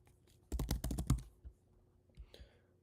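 A short burst of fast keystrokes on a computer keyboard, fairly close, followed by a few scattered single taps and then quiet.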